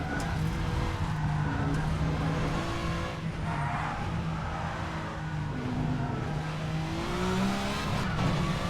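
A VRC Super Touring Car engine in the Assetto Corsa racing game revs hard and continuously, climbing and shifting through gears with a loud, close in-car drone.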